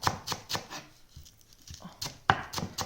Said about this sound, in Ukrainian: ось так цибульку ріже Ігор. Бачиш, як дрібненько.